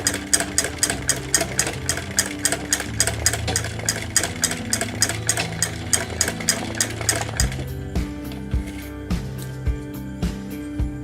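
A plain sewing machine back-stitching: a rapid, steady mechanical needle clatter runs close and loud for about seven seconds, then slows into a few separate heavier thumps as the machine stops.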